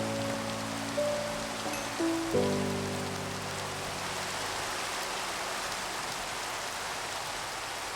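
Steady rain from a storm in the video game Minecraft hisses evenly throughout, with a low droning tone and a couple of soft thumps early on before the rain continues alone.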